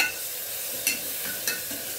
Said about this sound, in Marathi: ते ह्याच्यामध्ये टाकून घ्यायचे तेलामध्ये. छान परतून घ्यायचे आपल्याला